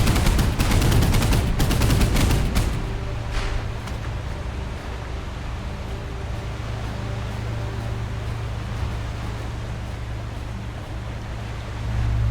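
An enemy gun in the naval game Boat Crew fires loudly at close range in a dense, rapid burst lasting a couple of seconds, then falls away to a steady engine and water rumble.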